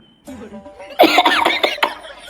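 A cartoon character coughing in a comic scene, several short loud hacking bursts close up, preceded by a brief soft voiced murmur.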